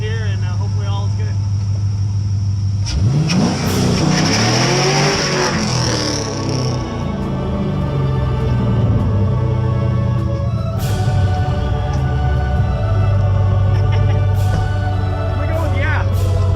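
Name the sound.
BMW E46 with welded diff doing a burnout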